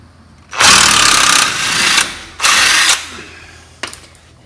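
A power tool loosening a 14 mm bolt on a 1992–95 Honda Civic during a camber kit install, two loud, close whirring bursts of about a second each, followed by a short sharp rattle.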